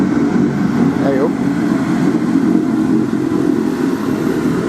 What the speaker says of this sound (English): Big tractor.